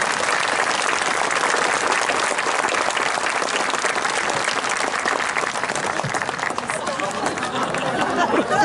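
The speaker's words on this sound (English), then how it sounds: "I would just like everyone to give him one more big round of applause" Sustained applause from a large audience at the Radford High School 2021 graduation ceremony. It fills the hall steadily and loudly from start to finish, with a faint murmur of voices mixed in.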